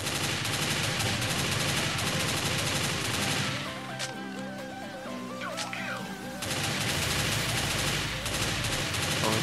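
Rapid video game gunfire as a whole magazine is emptied, dense overlapping automatic bursts at close range, with a short lull of scattered shots and sliding tones in the middle before the heavy fire resumes.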